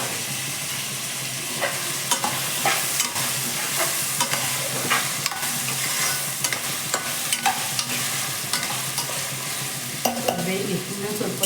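Chopped tomato and vegetables frying for fried rice, with a steady loud sizzle and frequent sharp clacks of a spatula stirring against the pan, no talking.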